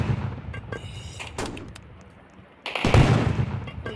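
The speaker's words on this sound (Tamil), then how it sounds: "ஓகே, ராக்கெட் லான்ச்சர் எடுத்துருக்கேன்" Rocket launcher fired in a video game, a loud booming blast near the end following sharper scattered shots and bangs, with no talking.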